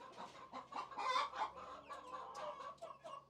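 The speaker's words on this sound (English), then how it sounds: "It's definitely a rooster." A rooster among hens makes a run of uneven, throaty clucks and short squawks, close by and moderately loud, with no talking.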